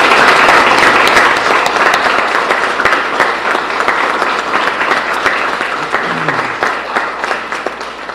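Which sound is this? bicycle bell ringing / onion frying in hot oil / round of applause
round of applause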